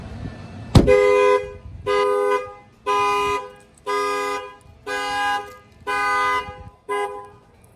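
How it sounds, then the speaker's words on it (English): A 2018 Jeep Wrangler factory car alarm with shock sensor add-on blares after a sharp bang on the window, honking in seven steady, evenly spaced blasts, loud and close with no talking. "this is a shock sensor add-on to the factory alarm on the Jeep Wrangler"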